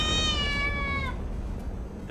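Cat meowing from The Goonies II on the NES: one long, loud, harmonic meow that holds steady for about a second, then cuts off, leaving a dense background hiss.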